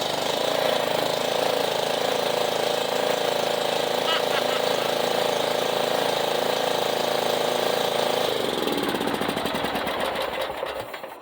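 A Yard Machines lawn mower, started on choke, fires up and runs with a loud, steady small-engine drone, then the engine is cut and winds down over the last few seconds.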